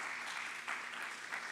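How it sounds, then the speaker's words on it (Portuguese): Steady applause from a church congregation fills the space, even and sustained with a slight swell near the middle and again toward the end. "Uma salva de palmas a Jesus pela vida da Natália"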